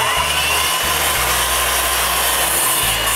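A power saw blade cuts through a wooden deck board resting on a rim joist, a loud, close, continuous rasping buzz with brief dips in the motor's drone.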